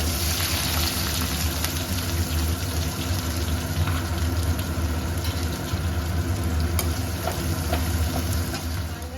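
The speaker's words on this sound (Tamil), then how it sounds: "வெங்காயம் போட்டுக்கிறேங்க" Onions frying in hot oil with fennel seeds, cinnamon and cloves for coconut milk rice, a loud steady sizzle with faint stirring scrapes throughout, no talking.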